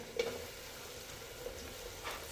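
Green beans and potatoes sizzle steadily in a hot pan for a Nagpur-style masale bhat, a soft continuous frying hiss with faint stirring, close and alone without talk.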